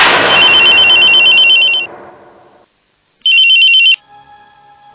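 A telephone's electronic ringtone sounds loud and close in two bursts separated by a short silence, followed by a faint lower tone.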